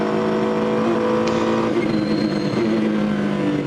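Race cars in a VLN endurance race at the Nürburgring Nordschleife, a loud continuous engine roar with harmonic whine as cars accelerate and pass, dense and close throughout.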